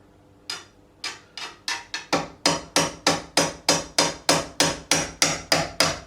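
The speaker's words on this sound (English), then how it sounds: "I'll just take a small fretting hammer. I'll take the nylon side and I'm just going to tap it from the back." Nylon face of a small fretting hammer tapping a guitar nut from behind on a PRS Mark Holcomb SE, a steady series of about eighteen sharp close knocks, sparse at first then settling into an even rhythm.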